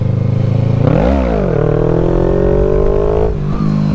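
A motorcycle engine revs up sharply as the throttle opens for a wheelie, then holds a steady loud drone before easing off near the end, close and dominant with no talk.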